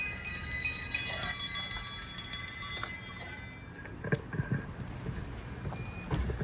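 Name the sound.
bell being rung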